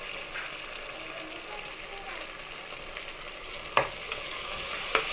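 Mint and coriander leaves fry in a pan for mushroom biryani, giving a steady close sizzle with a few sharp clinks of stirring near the end.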